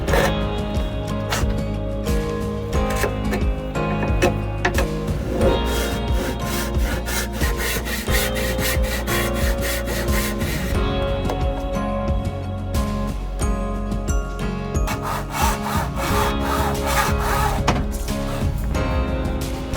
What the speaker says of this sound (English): I already marked the lines on this one to cut the tenon, so I'm just gonna go right ahead and cut it.